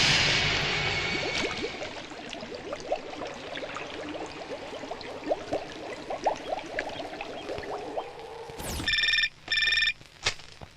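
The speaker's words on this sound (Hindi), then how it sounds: "Sir phone." A telephone rings in a tense action movie scene, with electronic ring bursts arriving near the end after busy whooshing, clattering action sounds.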